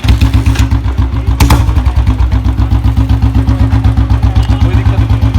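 Close up, a Royal Enfield Bullet 350 motorcycle idles just after ignition with a loud, evenly spaced thump-thump beat from its single cylinder. One brief sharper burst rises near the start, then the steady loping pulse continues.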